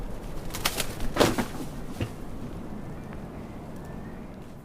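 A large, fully black Westland Petrel with a yellowish beak lands on a wooden bench in a forest at night, giving a quick cluster of soft thumps and flutters near the start before fading to quiet ambience.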